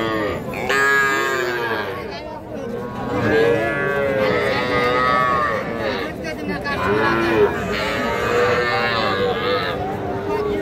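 A young bull calf, about two months old, at a cattle market lows repeatedly in drawn-out moos, close and fairly loud, with a few voices speaking in the background.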